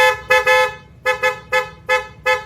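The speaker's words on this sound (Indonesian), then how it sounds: "Klakson coba bro." Duromoto snail horns fitted to a Toyota Stargazer sound in a test, giving five or six loud, bright honks in short bursts, some doubled, with brief gaps between them.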